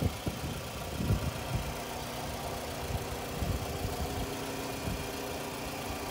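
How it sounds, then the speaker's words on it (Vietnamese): Toyota RAV4 2008 with a 2.4-litre engine idling in a cleaned engine bay, a steady, smooth low hum with a few brief louder knocks near the start, heard alone without talk. "Máy chạy rất là êm, rất là sạch sẽ."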